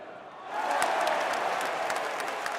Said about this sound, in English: The crowd went crazy with excitement